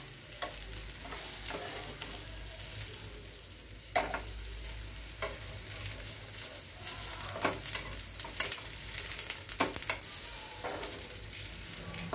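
Pineapple pieces frying in oil for pineapple fry, turned over with a papad-frying slotted spoon: a steady crackling sizzle broken by repeated metallic scrapes and clinks as the pieces are flipped, close and without talk.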